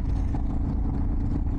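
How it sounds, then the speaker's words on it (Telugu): A motorbike engine labours uphill at high altitude on the road from Pangong to Leh via Chang La pass, making a loud, continuous low drone with dense rumble and wind buffeting close by. "సౌండ్ అయితే వస్తుంది కానీ ముందుకు అయితే వెళ్ళట్లేదు"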